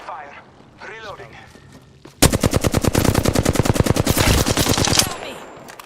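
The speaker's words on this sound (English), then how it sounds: "I'm taking fire." Rapid automatic gunfire in the video game Apex Legends, a loud sustained burst of fast, evenly spaced shots lasting about three seconds, preceded by a player's voice talking.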